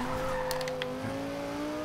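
A 2011 Lamborghini Gallardo LP570-4 Superleggera in Forza Horizon 2 drones at steady engine pitch as its back end slides out, with brief tire squeal chirps over the continuous engine tone.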